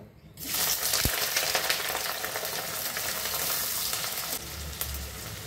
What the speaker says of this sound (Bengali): গরম হয়ে গেছে, এখন দিয়ে দেবো কেটে রাখা পেঁয়াজগুলো।